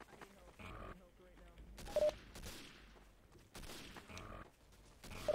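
Gunfire in a cavalry war video game: several sharp shots and bursts crack out across the span, mixed with in-game voices and chatter.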